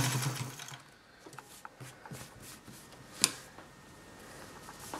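An Adler 189A vintage sewing machine stitching a three-step zigzag gives a soft, quick ticking and rattling, close but quiet, with a sharper click partway through.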